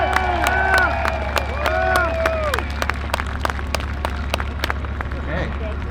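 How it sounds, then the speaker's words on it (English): A crowd at a Tank Saturday event applauds and shouts to vote for the M60 tank crew, with dense clapping and cheering that starts loud and tapers slightly over six seconds, plus scattered whoops and voices across the room. "By applause, who believes the M60 crew won Battle Royale?"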